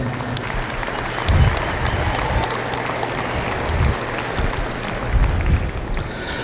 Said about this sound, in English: let's give the National Western crew a big round of applause